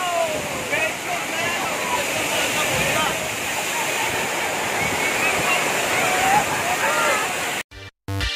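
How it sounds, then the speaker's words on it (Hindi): A tall monsoon waterfall near Mumbai with muddy brown water pours down in a loud, steady roar that fills the whole stretch before cutting off abruptly near the end. "ये वाटरफॉल बहुत अच्छा है"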